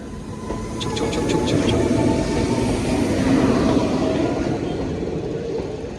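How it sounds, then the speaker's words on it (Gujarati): A slow passenger train, the Vadodara Express out of Bhavnagar, rumbles steadily close by, with a continuous low rolling drone and faint wheel clatter throughout. "આ છે ભાવનગરની બહુ ધીમામાં ધીમી ટ્રેન વડોદરા એક્સપ્રેસ"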